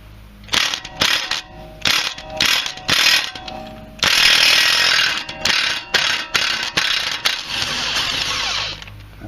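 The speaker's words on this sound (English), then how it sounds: "we're going to remove the caliper mount, which has two 21mm bolts." Ratchet wrench clicking in quick bursts, loosening the two 21mm caliper mount bolts on a Mercedes GL450 (X164) front brake, close and loud, with a longer continuous grinding spin midway.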